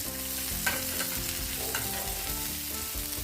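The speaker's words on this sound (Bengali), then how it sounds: "তেলটা গরম হয়ে গেলে তেলের মধ্যে দিয়ে দেবো কুচানো রসুন আর কোচানো আদা। ভালো করে ভেজে নেব।" Chopped garlic and ginger frying in hot oil, a continuous close crackling sizzle with an occasional stir, steady and moderately loud with no speech.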